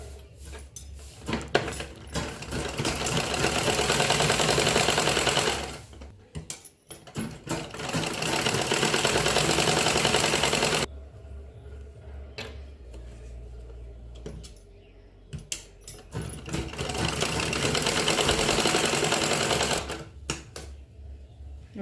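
A sewing machine stitches an embroidered blouse in long loud runs of rapid mechanical whirring, pausing briefly around six seconds and for a longer quieter gap in the middle before starting up again.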